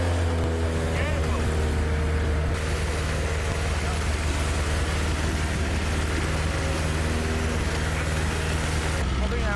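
A WWII-era fire engine's pump engine runs steadily at close range, a continuous droning rumble with a dense broadband roar that holds throughout and does not fade.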